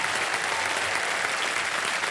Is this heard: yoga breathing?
no